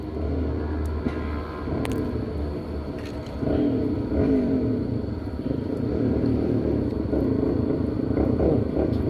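A motorcycle engine near a fishing spot by the Symphony Hotel area in Kuwait, a steady low rumbling drone that holds constant and grows slightly louder midway, heard alone without talk.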